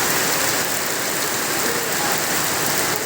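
Torrential rain pours steadily onto a street during a heavy downpour in Noakhali, a dense, loud, unbroken hiss of water with no voices over it.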